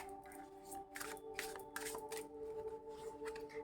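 Oracle cards being shuffled for a reading, soft close papery riffles and flicks in several quick bursts over a quiet background with a steady faint hum.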